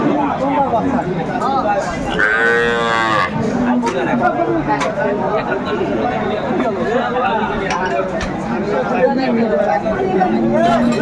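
Cows low and moo amid a busy cattle market crowd in Aftabganj, one drawn-out call standing out briefly over steady chatter and background hubbub.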